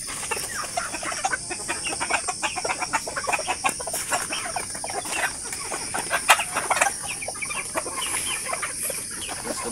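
Chickens on a native chicken farm cluck steadily in a busy flock, with overlapping calls and occasional louder squawks against constant outdoor ambience.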